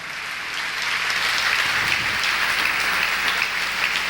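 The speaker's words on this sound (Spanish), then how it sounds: "Dele un aplauso al Señor." A church congregation applauds during a sermon, a dense, continuous wash of many hands clapping that swells and holds for several seconds.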